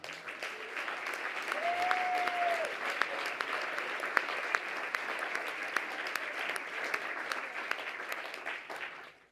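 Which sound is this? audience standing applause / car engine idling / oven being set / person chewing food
audience standing applause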